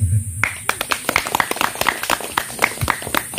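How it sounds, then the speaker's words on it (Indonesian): Clapping from an audience at a village facilitators' jamboree in Manggarai Timur starts abruptly and carries on as sharp, uneven claps, fairly close and lively, with a voice briefly audible beneath them. "sekali lagi kita berikan tepuk tangan"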